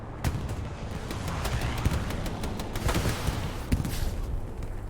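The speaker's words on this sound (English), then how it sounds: "Gunshots, bombs, arty strikes, tank bullets, AT guns." Rapid gunfire cracks and distant booming blasts from a Hell Let Loose game battle, bombs, artillery strikes and tank fire, dense and continuous, with sharp shots scattered over a steady rumble.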